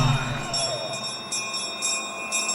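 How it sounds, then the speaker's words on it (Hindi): A bell rings with sustained, steady metallic tones that hold evenly across the whole moment, with faint knocks and clatter beneath. "घंटी की आवाज सुनकर निशाना लगाइए"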